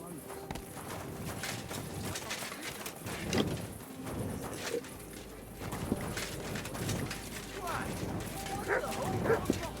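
A dog in Kingdom Come Deliverance 2 gives several short barks and whimpers over a busy outdoor game scene with birds cooing and hooves clopping, mid-distance and moderately loud, with a voice talking at times.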